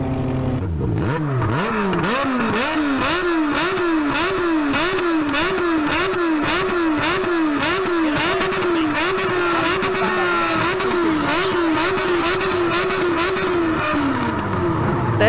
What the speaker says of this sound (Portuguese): Então, ó, o áudio da moto, né? Você segura o freio e o acelerador junto